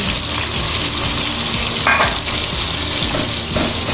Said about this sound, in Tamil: இப்போ இந்த வாழைக்காவை பொரித்து அள்ளிக்கிறோம்.